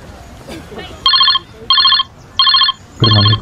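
An incoming call sets a telephone bell ringing in four evenly spaced electronic trills, loud and close, while people talk quietly before and between the rings.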